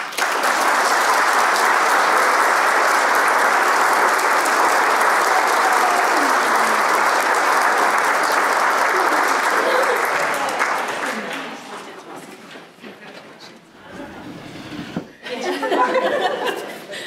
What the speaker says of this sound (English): So let's just give another round of applause.